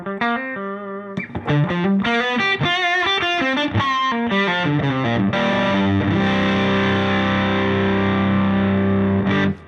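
Distorted electric guitar through an amp, a run of picked single notes and slides for about five seconds, then sustained ringing chords held to the end, loud and close with no talking.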